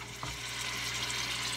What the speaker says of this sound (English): So we have the vegetables frying up for a few minutes here.